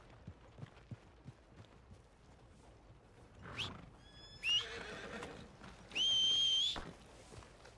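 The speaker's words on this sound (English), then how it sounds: "Are you gonna mount that new horse of yours or not?" A horse in Red Dead Redemption II whinnies twice, loud and close, the second neigh longer and shriller, after a stretch of quiet rustling and soft thuds.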